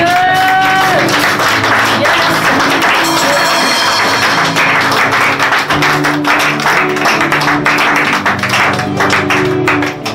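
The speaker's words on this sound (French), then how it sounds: "Sous vos acclamations, on va accueillir l'homme." A church audience gives sustained, loud applause to welcome a preacher, a dense wash of clapping mixed with crowd noise and voices, with music or tones audible underneath.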